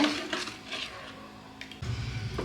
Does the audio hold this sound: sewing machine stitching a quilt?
no